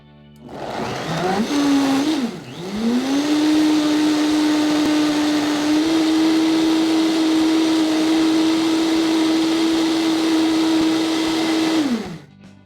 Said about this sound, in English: mix ingredients into your blender